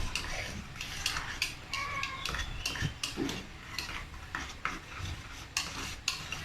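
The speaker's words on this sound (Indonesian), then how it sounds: "Kita aduk" A spoon stirs a bread pudding mixture with agar-agar in a metal pot, giving steady, repeated scraping and clinking strokes up close with no talk.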